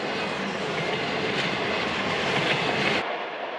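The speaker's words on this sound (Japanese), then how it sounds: "遊牧民が暮らす大草原を列車は走る。" A train on the Chinese Silk Road railway near Ürümqi, crossing grassland at the foot of the Tian Shan, gives a steady, loud rumble and clatter from inside the carriage, cutting off abruptly near the end.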